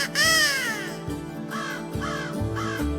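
Several crows caw harshly from the trees on a hilltop, a loud drawn-out call followed by a string of shorter repeated caws, close and clear with no talk.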